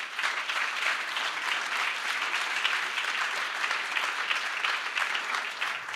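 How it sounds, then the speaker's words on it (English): A showcase audience gives steady, dense applause at a winter performance event, many hands clapping evenly and loudly for the full stretch with no talk above it. "Can we get a big round of applause?"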